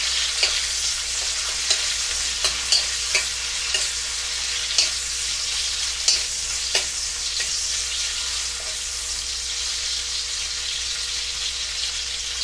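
Onion and garlic frying in a pan, a steady close sizzle with light scraping and stirring clicks scattered throughout, no talking.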